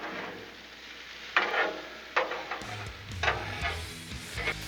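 Tortellini and sausage sizzle on a Blackstone griddle turned down to low, a steady soft frying hiss broken by several close scraping stirs of a spatula, no talking.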